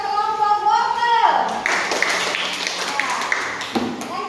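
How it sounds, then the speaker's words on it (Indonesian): Classroom applause for a student group at a school, a burst of clapping from around 1.3 seconds that carries on to the end after a voice speaks at the start. "Tepuk tangan buat kelompok wortel"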